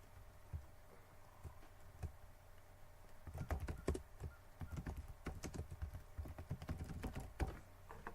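Keys clatter on a computer keyboard while text goes into a web form's title field, sparse taps at first and then a quicker, irregular run of close, fairly quiet keystrokes.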